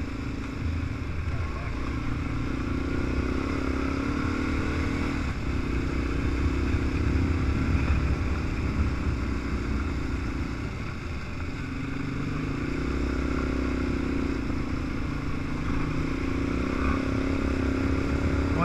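A motorcycle rides along Tellico Road, a gravel route in North Carolina, with a steady, loud engine drone and wind rush that hold for the whole stretch and swell slightly now and then.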